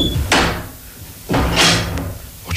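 An old metal chest in a castle is opened and shut, giving two broad, loud bangs about a second apart with scraping noise between them, close by.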